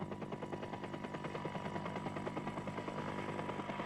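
Helicopter rotor chop throbs steadily and fairly loudly over a 1995 San Sebastian Classic road cycling race, its fast regular thumping holding throughout with no talk.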